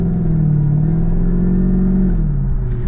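Jaguar XKR 4.2 (X100) engine accelerating from inside the car, a steady deep mid-range drone that rises slightly, then drops in pitch as the revs fall near the end, with no talking.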